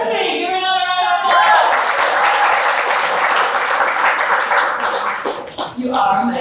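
Audience applause for someone speaker at a career talk: loud, dense clapping fills most of the stretch, fading briefly near the end, with voices speaking over it at the start and finish.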